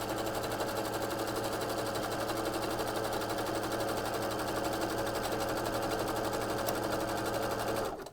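A sewing machine fitted with a cording foot stitches over metallic cording in one continuous, fast, even whir, close and steady for about eight seconds before stopping.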